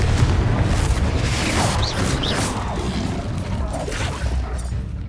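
Confringo fire-blast spell exploding in Hogwarts Legacy, a loud sustained rumbling boom with crashing, whooshing bursts layered over dense low-end noise, no talk.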